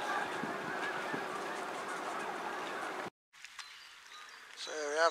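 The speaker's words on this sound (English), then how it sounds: "So here we have the ducks." Outdoor crowd chatter and noise at a country park give way after a brief gap to a few honking, quacking duck calls close by at the end.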